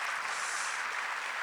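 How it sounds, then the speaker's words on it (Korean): A congregation claps during a Korean church's New Year's Eve worship service, soft, even applause that stays at a constant level with no voices over it. "박수하겠습니다"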